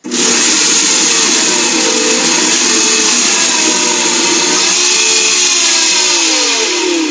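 A kitchen blender roars loudly and continuously as it quickly grinds nuts, a harsh, steady motor whine with a gritty churn that shifts slightly in pitch toward the end.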